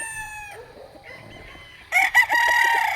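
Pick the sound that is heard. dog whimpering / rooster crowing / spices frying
rooster crowing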